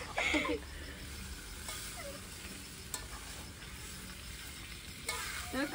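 Meat cooking in hand-ground spice paste on a wood-fired clay stove, a gentle sizzle with stirring clatters near the start and end, fairly close, no one speaking.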